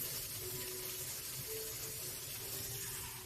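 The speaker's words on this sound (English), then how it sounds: "You can just put in as much water as you feel like you will need." Water runs steadily into a cooking pot while preparing yam cou-cou, a continuous close splashing wash with no talk.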